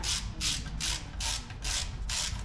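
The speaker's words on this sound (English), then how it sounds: "I'm actually going to torque these ones with the torque wrench and get you guys the torque spec on it" Torque wrench ratcheting in six rhythmic, close bursts while tightening bolts on a 360 V8 engine being assembled for a 1981 Dodge D150, steady and alone with no talking.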